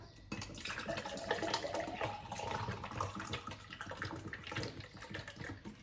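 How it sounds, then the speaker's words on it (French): Cold milk pouring in a steady liquid stream into a salad bowl, a continuous close splashing and burbling that lasts several seconds without talking. "Vous versez donc dans un saladier avec un demi-litre de lait"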